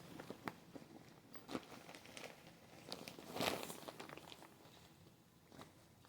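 A plastic bag stuffed with brand-new packages of ruffled lace is pried open, giving scattered crinkles and crackles with a louder rustling burst midway, close and fairly quiet.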